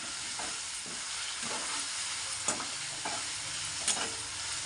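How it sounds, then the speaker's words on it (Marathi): Chopped onion sautéing in a pan for a Marathi-style green moong dal with curry leaves, a steady close sizzle broken by a few scraping stirs of the spoon, with no talking. "मस्तपैकी परतून घ्यायचं जरा लाल होतं बघा"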